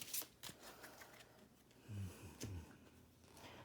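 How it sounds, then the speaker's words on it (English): A deck of For Sale board game cards, property and currency cards, is shuffled by hand in a few short riffling bursts with soft taps between, quiet and close. "Give this a little shuffle."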